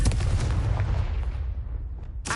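A Confringo explosion spell in Hogwarts Legacy goes off as a loud booming blast that rumbles and fades over about two seconds, then a fresh burst starts at the end.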